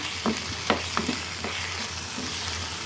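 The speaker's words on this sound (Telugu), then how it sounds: "దీన్ని కొద్దిగా ఇలా చేసేసుకొని స్మాష్ చేసుకొని మెత్తబడిన తర్వాత కూర అంతా కలిపేసుకుంటాము" Cooked vegetables being mashed and stirred into curry in a pan, with a steady sizzle and several soft scraping taps from the spoon, close by.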